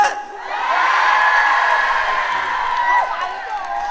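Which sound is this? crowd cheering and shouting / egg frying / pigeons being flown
crowd cheering and shouting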